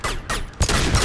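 Rapid volley of gunfire from a Mass Effect 2 squad firefight, loud bursts of overlapping shots with two heavy booming impacts near the end, no talking.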